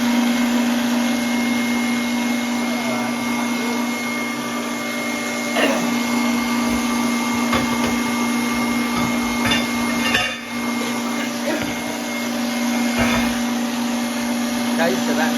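An electric mixer whirs steadily through mint and chocolate cake batter, a loud, constant motorized drone with a strong hum, broken by occasional clicks and knocks of the beaters against the bowl, under intermittent talk.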